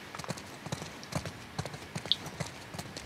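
Horse hooves clip-clop steadily in The Last of Us Part II, a run of evenly spaced soft thuds at walking pace, moderately close with a faint background bed.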